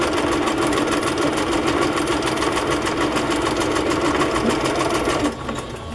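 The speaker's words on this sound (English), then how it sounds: "And I think I'll sew down the center" A sewing machine runs steadily, stitching down the center of a lace pocket on a fashion-magazine journal, a continuous loud whir for about five seconds before it stops and quiets.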